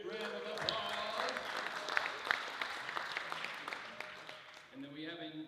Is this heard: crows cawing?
no